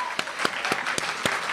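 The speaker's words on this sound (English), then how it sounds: "Let's give them a round of applause" Church audience applause for the speakers, a brief stretch of dense clapping with several sharper individual claps standing out near and loud.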